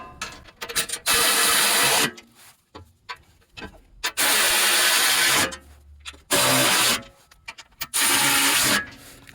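Bolts being tightened on a 2021-2025 Ford Bronco 2.3L after an oil change, with several loud bursts of rapid ratchet clicking separated by short pauses and lighter handling noises.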